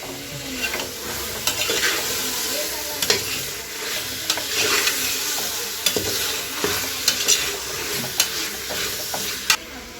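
Mushrooms fry in spiced masala for biryani as a spoon stirs them, a constant loud close sizzle punctuated by regular scraping knocks against the pan, with no voices.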